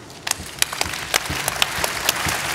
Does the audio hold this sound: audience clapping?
yes